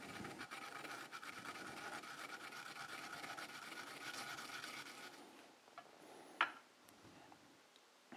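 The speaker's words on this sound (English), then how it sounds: "let's grate the wasabi" Fresh wasabi root is rubbed on a grater in a quick, continuous rasping scrape for about five seconds, followed by near quiet broken by a single soft knock.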